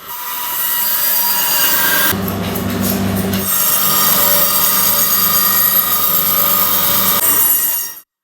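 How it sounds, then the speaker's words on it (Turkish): A butcher's electric bone-cutting band saw cutting through bones, a loud continuous high-pitched whine with a heavier grinding stretch as the blade bites in, then fading out abruptly at the end. "kırılan ya da kesilen kemikler artık bir testereyle saniyeler içerisinde istenilen boyutta kesilebiliyor"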